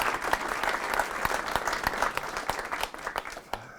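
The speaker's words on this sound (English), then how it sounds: "give him a round of applause to welcome him here" An audience at a lunchtime talk in a garden of reflection applauds to welcome a speaker, a dense burst of clapping from many hands that stays strong and then thins out toward the end.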